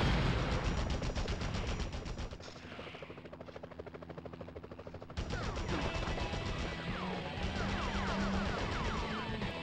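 Shooters in the Spider-Man PS1 video game fire bursts of gunfire over a constant helicopter rotor chop, the shots rattling densely at first, easing briefly, then resuming louder with scattered impacts.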